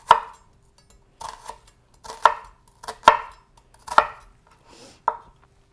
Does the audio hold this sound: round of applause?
no